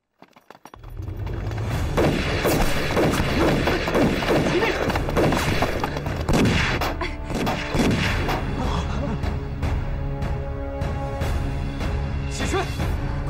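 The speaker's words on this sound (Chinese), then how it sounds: "喜春，鬼子听到枪声，他们会马上过来的，到时候你们谁也走不了。" Gunfire rings out in a Chinese anti-Japanese war film scene set at a prison rescue, loud heavy blasts and crashing impacts rolling on continuously after a brief quiet start.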